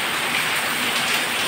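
Heavy rain pouring down on a rooftop during a power cut, a dense, loud, steady hiss with no break and no talking.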